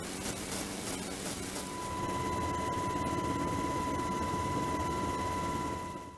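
A helicopter on a coastal border patrol passes overhead, a broad whooshing rotor and turbine roar that swells after the first couple of seconds and holds steady, with a thin whine riding on top.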